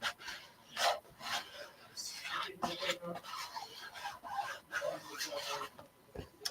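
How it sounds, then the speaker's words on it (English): A chalk stencil is burnished onto a canvas sign with soft, uneven rubbing strokes, quiet and close, in irregular bursts of scraping friction. "So I'm going to burnish it really well."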